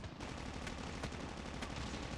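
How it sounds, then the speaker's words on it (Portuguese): Bursts of gunfire in the mobile shooter game Call of Duty Mobile, several sharp shots spaced irregularly over a dense, steady background, fairly quiet overall with no talk. "dei tiro pra caraca, errei todos, mano"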